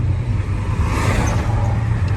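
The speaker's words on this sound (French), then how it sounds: "Le Scania échappement libre, ça fait plaisir." Scania truck with a straight-pipe exhaust, a steady low engine drone rumbling close and loud for the whole stretch, with no break or pause.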